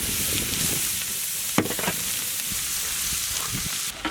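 Garlic fries in butter in a pan with a continuous bright sizzle, loud and close, broken now and then by soft stirring clatter, with no talk.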